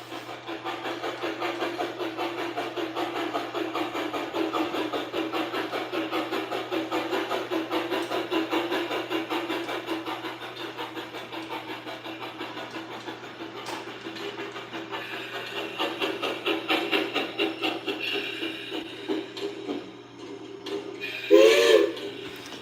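A Blunami sound decoder fitted in a Rio Grande F scale (1:20.3) model steam locomotive gives a steady chuffing run with whistle-like tones, a brief brighter whistle burst near the end, and no talking.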